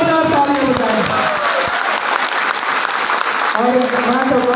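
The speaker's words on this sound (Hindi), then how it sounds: "ऐसे गो भक्तों के लिए जोरदार ताली बजाएं।" Audience applause at a cow-protection honour ceremony in Kaithal, a steady wash of clapping that fills the hall for several seconds while voices carry over it at the start and again near the end.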